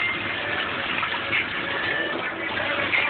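A large shower head sprays water in a steady, dense hiss, continuous and close with no talking.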